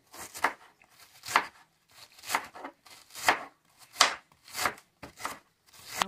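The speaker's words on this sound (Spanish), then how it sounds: "Vamos a empezar a picar lo más finito que podamos" A knife finely chops red cabbage on a board in quick bursts of crisp, rhythmic strokes, about eight clusters with short pauses between them, close and clear, with no talking.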